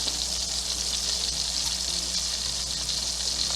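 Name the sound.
onions frying in oil and butter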